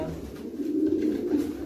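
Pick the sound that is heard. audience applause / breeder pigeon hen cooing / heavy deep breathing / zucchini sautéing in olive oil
breeder pigeon hen cooing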